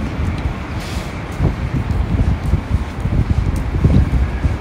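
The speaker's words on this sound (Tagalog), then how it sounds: "mahangin siya, napakalamig" Steady, very cold outdoor wind buffeting with low rumbling gusts near an airport train station, close and moderately loud, no talking.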